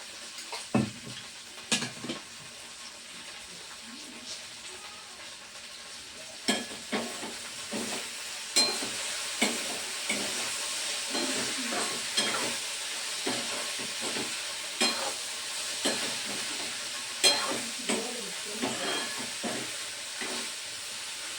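Oil heating for a tadka while cooking okra sizzles steadily, with repeated sharp crackles and spatters popping over a continuous hiss, close and fairly loud.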